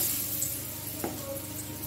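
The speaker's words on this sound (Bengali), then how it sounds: "কড়াই আমি সর্ষের তেল দিয়েছি, তেল গরম হয়ে গেছে। আমি এবার বড়াগুলো ভেজে নেব।" Banana flower kofta balls fry in hot mustard oil in a kadai, making a soft, steady sizzling hiss with a faint bubbling crackle and one small pop midway, heard alone.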